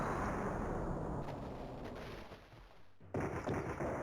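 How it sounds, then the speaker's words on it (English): A cannon fires and a cave collapses in the video game Alone in the Dark 2: a sustained heavy rumble of roaring, crumbling debris that fades, then a sharp renewed blast near the end. "One-Eyed Jack fires the cannon, so the cave collapses."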